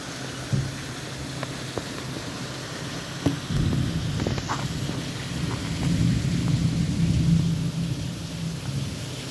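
Heavy rain falling with thunder during a storm in Santa Catarina, a steady broad wash of rainfall with a low rumbling roll of thunder building in after a few seconds and sustained to the end.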